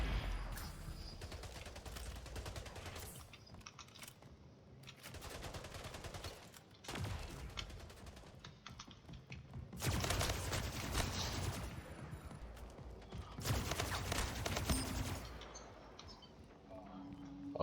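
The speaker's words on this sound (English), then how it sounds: "this plasma rifle's pretty cool" Plasma rifle fire in the shooter game Splitgate, bursts of rapid automatic shots in several separate volleys with short pauses between, moderately loud against quieter game ambience.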